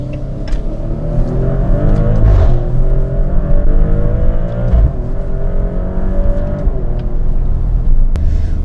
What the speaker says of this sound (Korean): 마세라티는 엔진 그다음에 배기에서 오는 차량의 소리가 역시나 명품이 아닐까 싶습니다